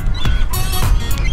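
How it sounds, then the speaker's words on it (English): Seagulls squawk nearby in a few harsh, overlapping calls over low rumbling background noise. "the seagulls aren't going to leave it alone"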